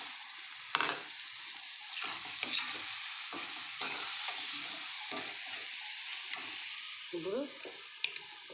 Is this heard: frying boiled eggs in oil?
yes